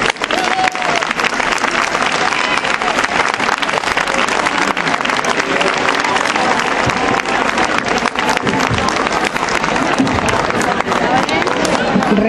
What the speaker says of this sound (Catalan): Un fort aplaudiment per a ella